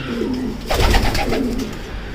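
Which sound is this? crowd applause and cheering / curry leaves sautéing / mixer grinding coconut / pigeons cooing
pigeons cooing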